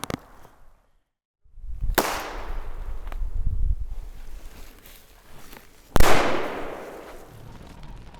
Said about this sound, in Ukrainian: Як тільки я піднімлю магазин, вибух.